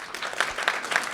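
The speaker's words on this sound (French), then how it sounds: "On peut les applaudir," Brief round of audience applause at a French community event, scattered claps at moderate level with no talk over it.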